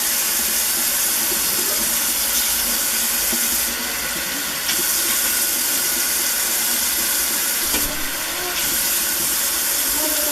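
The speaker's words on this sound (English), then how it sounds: "So I'm gonna go ahead and clean my little brushes." Makeup brushes being rinsed under a running sink tap, a steady broadband rush of water that continues throughout with brief shifts as the brushes move through the stream.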